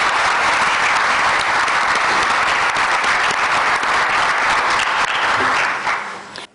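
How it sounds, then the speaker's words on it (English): A large audience at an African Union 50th anniversary program applauds the winners of a debate round, a dense, sustained wash of clapping held at full strength for several seconds before it fades out quickly at the end. "Can we give them a round of applause?"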